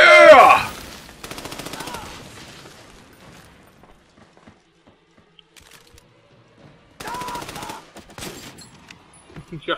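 Gunfire in Army of Two: The Devil's Cartel, with short rapid bursts of shots near the start and again later, between quiet gaps. A voice talks over part of it.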